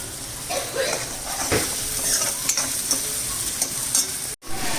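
Onions with ginger and green chilies browning in hot oil in a pan, a steady close sizzle and hiss with a few soft stirring scrapes and one brief dropout near the end.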